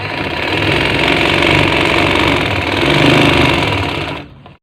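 A sewing machine runs steadily as it stitches cotton bed sheet fabric, a loud, close, continuous mechanical whir that carries on without a break and cuts off just before the end.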